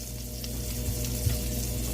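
Garlic Parmesan butter melts in a hot pan with a steady, soft sizzle and faint crackle, close and continuous without talk.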